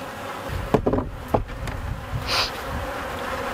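A steady buzzing of many honeybees hums close by at an open hive during a hive inspection, with a few louder thumps and rustles near the start.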